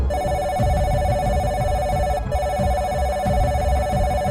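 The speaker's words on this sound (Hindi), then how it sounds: "तभी ऑफिसर वर्मा का फ़ोन बजता है" A telephone rings loudly and steadily as an audio-story sound effect, repeating its electronic trill with only a brief gap midway and no voices over it.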